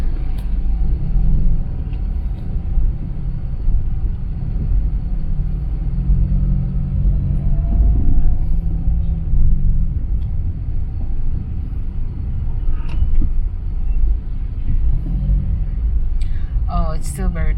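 Steady low rumble of city road traffic in Mandaue City, Philippines, heard from inside a vehicle, with engines droning continuously and a brief higher clatter near the end.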